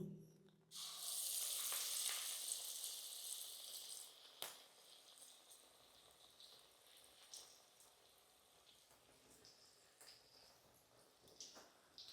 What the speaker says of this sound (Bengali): কড়াইয়ের তেলটা তেতে গেছে, আমি এই দুটো আবার দিয়ে দেবো।